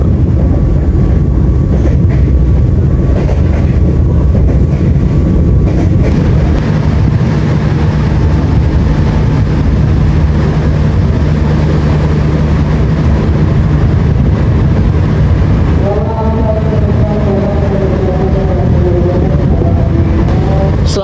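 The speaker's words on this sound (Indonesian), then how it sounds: "Kereta api Menoreh masuk di jalur 1 stasiun Brebes" The KA Menoreh passenger train runs on the rails near Brebes, a loud continuous rumble of wheels and carriages rolling at speed, with a rising whine near the end.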